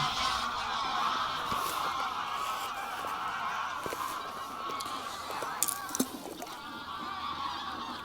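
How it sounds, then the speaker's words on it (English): Large flock of nearly a hundred geese honking at Boddington Reservoir, a dense, continuous chorus of overlapping calls at middle distance over open-air wind noise. "You can hear the resident geese are coming in."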